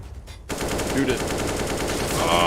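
Rapid automatic gunfire rattles continuously in a Counter-Strike match, a loud, dense stream of shots starting abruptly after a half-second and running to the end, with a commentator's voice faintly underneath.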